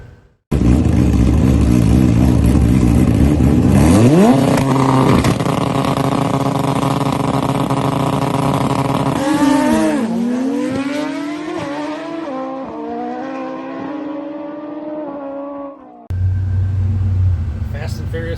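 Racing motorcycle engine at a drag event in Indiana, a loud close idle that swells into a rising rev, then falls away and settles before another burst near the end.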